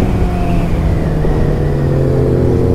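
A Yamaha XJ6 motorcycle engine revs steadily and loudly nearby, holding a sustained, slightly rising mechanical drone with no talk.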